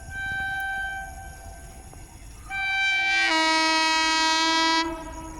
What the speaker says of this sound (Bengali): বর্তমানে ট্রেন একবারে কাছাকাছি তাই আসছে